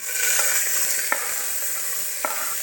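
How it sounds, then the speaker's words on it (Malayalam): Chopped onion and carrot sauté in hot coconut oil with cardamom and spices, a steady crackling sizzle broken by a couple of sharp spoon clinks against the pan, with no talking. "അരിഞ്ഞു വെച്ച ഉള്ളിയും ക്യാരറ്റും ചേർത്ത് കൊടുക്കാം."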